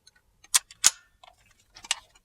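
A button on an Umarex Legends MP40 full-auto BB gun clicks forward. A few small sharp clicks and metallic snaps are heard close up in quiet surroundings.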